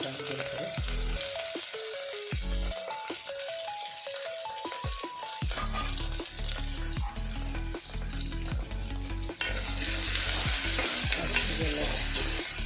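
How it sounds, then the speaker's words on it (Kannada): Onion and curry leaves fry in hot oil as a tempering for spring onion and flat bean curry, a loud continuous sizzle with repeated stirring scrapes in the pan. "ಚೆನ್ನಾಗಿ ಫ್ರೈಯಾಗಿ ಸ್ವಲ್ಪ ಕೆಂಪು ಬಣ್ಣ ಬರೋವರೆಗೆ ಒಗ್ಗರಣೆ"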